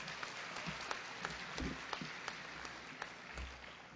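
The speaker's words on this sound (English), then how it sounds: "let's give them a round of applause" Crowd applause at a high school convocation on the first day of the school year, a steady, dense patter of many hands clapping throughout, moderately loud and continuous.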